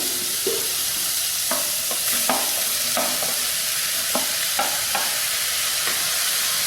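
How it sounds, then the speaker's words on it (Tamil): Steady frying sizzle with repeated scraping clicks of a spatula stirring onions browning in a pan for ridge gourd sambar, close and continuous, no talking. "முதல்ல வெங்காயத்தை போட்டு நல்லா ப்ரௌன் கலர் மாதிரி வர வரைக்கும் நம்ம வதக்கிக்குவோம்"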